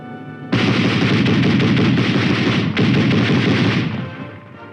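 A heavy .50-caliber machine gun mounted on an armored vehicle fires a long sustained burst, loud and close, with a brief break before continuing and tapering off.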